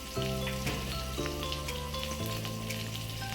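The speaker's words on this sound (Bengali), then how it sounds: "গরম কড়াইতে দিয়ে দেব 1 চামচ আস্ত জিরে আর আস্ত কাঁচা লঙ্কা। তার মধ্যে লম্বা করে কেটে রাখা আলু আর হাফ করে কেটে রাখা বেগুন দিয়ে দেব।" Potato strips and halved eggplant fry in a hot pan with whole cumin and green chillies, giving a continuous close sizzle under soft background music.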